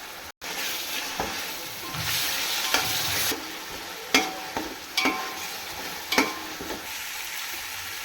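Ginger garlic paste frying in a pan for chicken dum biryani, a steady close sizzle with repeated scraping stirs and spoon knocks at irregular intervals throughout.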